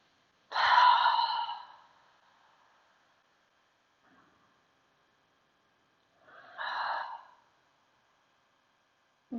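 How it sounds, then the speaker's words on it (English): Yoga breathing done in Warrior 1 pose: a long, loud breathy exhale close to the mic, a long quiet pause, then a second, softer exhale, with no talking between them. "inhale through your nose. And exhale"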